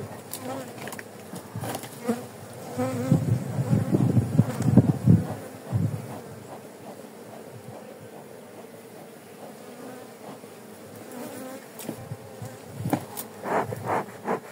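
Bees swarm and buzz around a garden beehive being smoked during an inspection, a close, dense droning hum swelling and fading as insects fly past, with light rustling and no talking.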